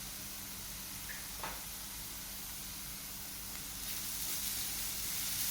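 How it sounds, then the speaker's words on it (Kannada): Grated coconut with turmeric dry roasts in a pan with a soft, steady hiss and faint crackle, quiet and even throughout, with a slight swell toward the end. "ಇದನ್ನೀಗ ಚೆನ್ನಾಗಿ ಡ್ರೈ ರೋಸ್ಟ್ ಮಾಡ್ಕೊಳ್ಬೇಕು."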